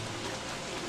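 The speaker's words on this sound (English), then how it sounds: "I need it to stop raining" Rain in the video game Don't Starve, a soft, dense, steady hiss of falling drops without a break.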